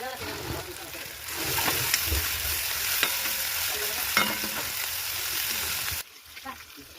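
A paste of cumin, garlic, onion and green chilli roasts in a pan with fenugreek going in, making a dense, continuous sizzle with scraping stirs, then suddenly dropping to a quieter hiss near the end.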